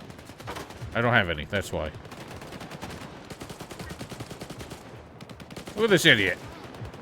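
Rapid bursts of gunfire in STALKER 2, a steady stream of sharp shots running under a voice as he talks over the action.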